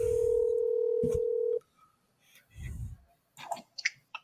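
A steady dial tone hums, then cuts off with a click, followed by a few short beeps and faint clicks of a phone line.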